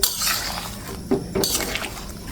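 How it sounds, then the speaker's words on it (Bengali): A utensil stirs duck egg curry with potato and pointed gourd as the broth begins to boil in a pot. It gives a few light clinks and scrapes against the pot over a close, hissing simmer. "ঝোলটা দেওয়ার সঙ্গে সঙ্গে ফুটতে শুরু করে দিয়েছে। একটু নেড়ে ছেড়ে দিচ্ছি।"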